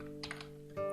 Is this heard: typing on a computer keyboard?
yes